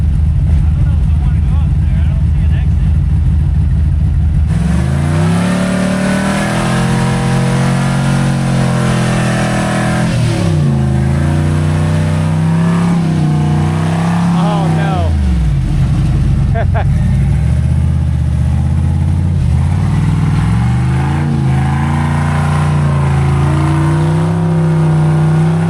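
An off-road vehicle's engine revs hard on a rough trail, a loud, continuous roar that rises and falls in pitch as the throttle is worked, close to the microphone throughout.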